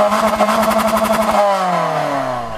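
A 2014 Toyota Corolla Altis sport edition with a CVT accelerates, its engine droning loud and close with a pulsing note before the tone smoothly shifts and glides lower as speed builds.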